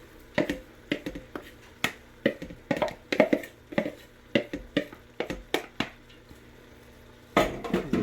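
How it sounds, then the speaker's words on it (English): Onions, tomatoes and garlic tossed into a pot of browned pork for posole and stirred, giving a rapid run of sharp clicks, taps and scrapes of utensil on pot, fairly close and without talk. "toss in your onions and tomatoes and garlic"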